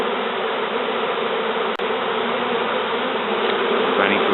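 Honeybees fanning at a nest inside a sofa give a steady, dense insect hum that runs unbroken and close, with a single brief tick near the middle and no voices.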